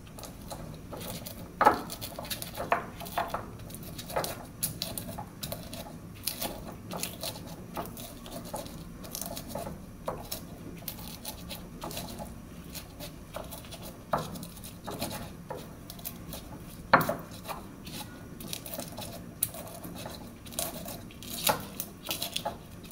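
Chili, garlic and shallots are ground with a stone mortar and pestle in a home kitchen, producing a soft continuous scraping and patter with occasional sharper knocks, close and quiet throughout.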